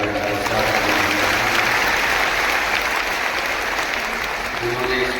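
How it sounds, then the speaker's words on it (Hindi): Dense, steady applause from a large audience at a Shiv Mahapuran religious discourse in Rewari, Haryana, welcoming the host family; loud and continuous throughout, with a faint murmur of voices mixed in. "यजमान परिवार के लिए जोरदार तालियों का स्वागत"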